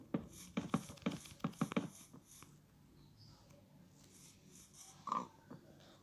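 A few short grunting oinks from a Minecraft pig, scattered with gaps and clicky taps between them, fairly close and moderate in volume.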